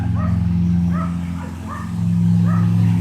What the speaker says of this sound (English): the dogs are going crazy back there